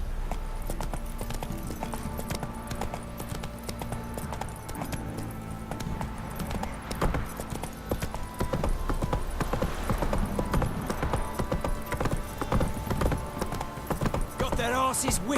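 Horse hooves pound in a rhythmic gallop through The Witcher 3 game, steady clip-clop beats carrying over ambient game sound, with voices talking over them.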